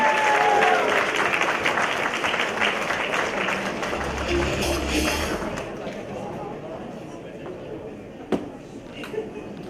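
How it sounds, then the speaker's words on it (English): A gala audience keeps up a steady round of applause at a charity event, dense clapping fading gradually over the last seconds, with a couple of louder isolated claps near the end. "Everybody, keep that round of applause going, ladies and gentlemen."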